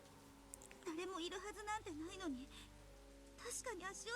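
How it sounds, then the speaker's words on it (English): Steady rain falls in the Higurashi visual novel, a soft continuous patter that stays in the background while a voice talks over it throughout. "But there was nobody there, just the falling rain."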